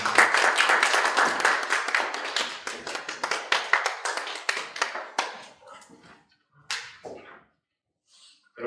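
Audience applause at the opening ceremony of a 2022 Korean national strategy academic conference, brisk overlapping claps that start loud, then thin into a few scattered claps and fade to near silence.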